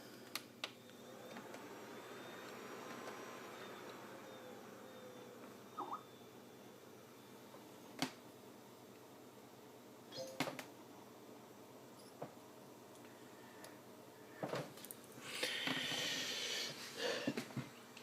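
A desktop PC that originally shipped with Windows XP Home powers on, giving a low, steady fan whir with scattered soft clicks and a brief louder burst of drive or fan noise near the end, all faint and with no talking.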